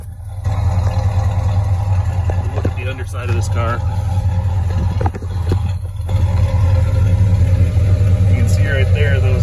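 A 1966 Pontiac Catalina convertible with a single exhaust idles close by, its steady low rumble running throughout while someone speaks briefly over it and small handling noises come and go.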